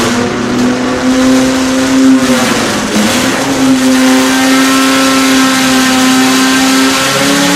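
An EMPI engine screams at full power on a dyno during an engine competition, a loud sustained high-revving drone with a steady pitch that dips briefly and then climbs back, with no talk over it.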